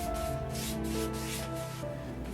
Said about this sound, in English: here I'm sanding and protecting the parts that won't be easy to reach afterwards